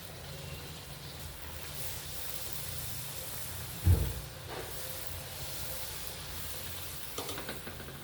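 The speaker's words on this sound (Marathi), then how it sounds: "आपण जेव्हा तेलामध्ये पुरी टाकणार तेव्हा ही अशी वरून दाबायची म्हणजे पुरी फुकते" Puri dough frying in hot oil for a Ganesh Chaturthi festive thali gives a steady close sizzling hiss throughout, with one brief louder bubbling burst partway through and no talk.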